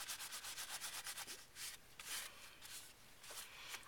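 Distress stain is rubbed off an embossed card with fast, repeated rubbing and scrubbing strokes, soft and close, in short rhythmic bursts with no talking.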